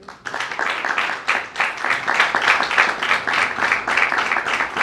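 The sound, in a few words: audience applause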